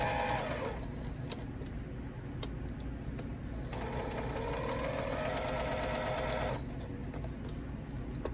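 A sewing machine stitches a rolled hem on printed pillow fabric, a steady close mechanical whir with rapid needle clatter that runs continuously and briefly rises in pitch as speed changes.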